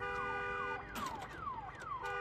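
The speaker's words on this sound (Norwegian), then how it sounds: "Skru av dere alarmene" Alarms blare in the zombie-apocalypse game Days Gone, a looping electronic siren whose falling sweeps repeat about every half second, loud and steady with no talk over it.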